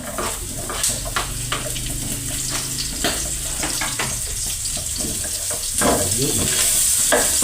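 Sautéing in hot cooking oil for a home-cooked corn dish: a steady, close crackling sizzle runs throughout with occasional stirring clatter, growing slightly louder near the end.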